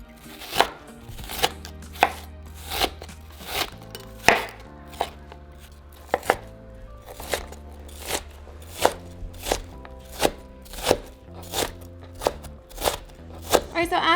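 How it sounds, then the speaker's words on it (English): A knife chops an onion on a cutting board, sharp distinct thuds in an uneven but steady rhythm, close and fairly loud, with a quiet background hum. "we are going to start to chop our onion"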